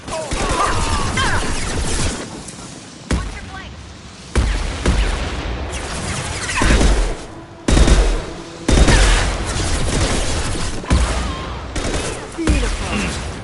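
Heavy gunfire rattles in repeated loud bursts during a Mass Effect 2 battle, with sharp shots, crashes and mechanical clatter separated by brief pauses.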